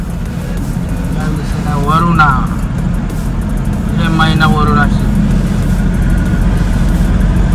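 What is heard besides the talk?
road traffic, passing cars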